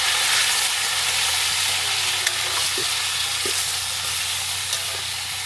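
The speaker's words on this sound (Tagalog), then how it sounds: "Sasapotsahin po muna niya yung karne." Pork ribs and carabeef sautéing in oil make a steady, close frying sizzle with a few soft clicks of stirring, and no talking.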